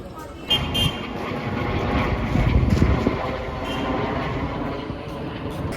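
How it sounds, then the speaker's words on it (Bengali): A steady low rumble of a train at a station fills the clip, with a mix of background noise and faint distant voices. "এই যে আমরা রয়েছি স্টেশনে"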